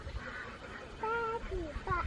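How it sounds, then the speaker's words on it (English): Domestic ducks sitting on their nests give a few nasal quacks close by, short calls in the second half, with a person speaking nearby. "So here's the two ducks that are sitting."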